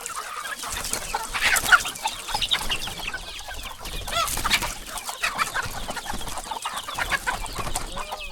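Hens stream out of a small backyard coop at dawn, clucking close by in a lively, overlapping flurry of calls and squawks from several birds that never lets up.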